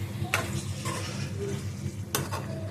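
Brinjal cooking with fried masala in a pan, with a soft low sizzle under scattered clinks and scrapes of a spatule stirring against the pan.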